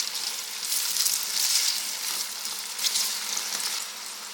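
Diced potato hits hot oil and fries with a steady, dense sizzle that crackles close up throughout, with no talking.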